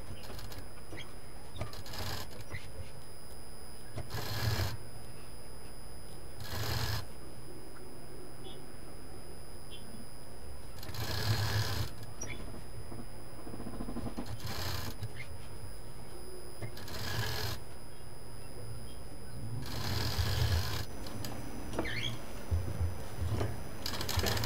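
A sewing machine stitches a fabric mask in repeated short bursts of close mechanical whirring, separated by quieter gaps, while a voice talks over a steady background hum.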